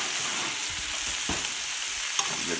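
London broil steak sizzling steadily on a high heat plate, a dense continuous frying hiss with a few faint clinks, no talk.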